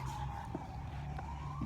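An ambulance siren passes outside, a steady wailing tone with a slowly rising pitch running under traffic rumble, heard from a moderate distance without talk.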